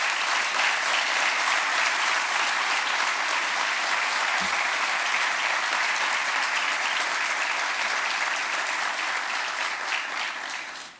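Loud, dense applause from the audience at a Portuguese municipal swearing-in ceremony for new local officials, with sustained even clapping from a packed room that runs the whole length before cutting off at the end.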